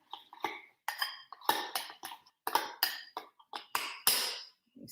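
An eggless egg salad is stirred in a bowl, producing a rapid series of clinking, scraping utensil strikes against the dish, close and fairly loud with short gaps between them.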